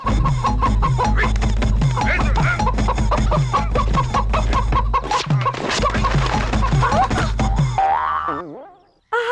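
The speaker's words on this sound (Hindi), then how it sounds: "ये ब्रिटिश लोग हमारे मुर्गियों के पीछे पड़ गए" Chickens in an animated Indian scene cluck loudly and rapidly in a dense, repeated run of squawks, close and busy, ending with a cartoonish wobbling tone before a sudden cut.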